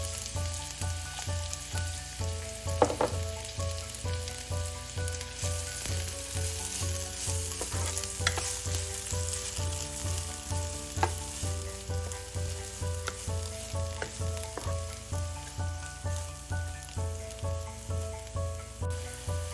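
Finely chopped medium onion sizzles steadily as it fries in a pot with cumin for chicken soup, a continuous close crackle with a regular stirring pulse running underneath.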